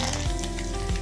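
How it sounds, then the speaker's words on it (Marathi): Curry leaves sizzle and crackle in hot oil alongside cumin and mustard seeds while a Maharashtrian kadhi tempering is being prepared, a steady close frying hiss with no talk. "जिरे मोहरी तडतडली की आपल्याला इथं कढीपत्ता टाकायचा आहे"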